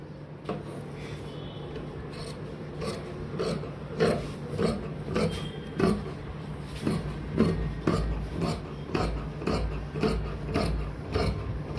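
Scissors snip through fabric while trimming the border off a skirt piece, a steady run of crisp rhythmic clicks and crunches close up over a low background hum.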